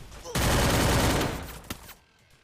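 Gunfire in the Free Fire battle royale game during a tournament match: a loud, dense sustained burst of rapid shots lasting over a second, tapering off to a short quiet tail.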